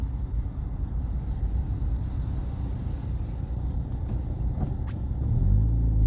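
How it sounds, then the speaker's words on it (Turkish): Road traffic rumbles past, a continuous low engine and tyre roar from cars moving along the street, swelling louder near the end as a vehicle passes close. "Burada çok trafik oldu."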